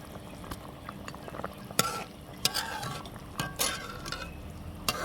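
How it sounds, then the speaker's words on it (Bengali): Fried bata fish go into a simmering curry with stem vegetables and pointed gourd, giving a soft bubbling hiss with several louder clatters of the pan and spoon, close and uneven. "তরকারির বলক এসেছে, এখন আমি ভাজা মাছগুলোকে দিয়ে দিচ্ছি।"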